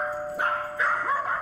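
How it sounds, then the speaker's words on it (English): A dachshund barks in three short, close, yappy bursts set off by a doorbell ringing at home. "And the dog started barking,"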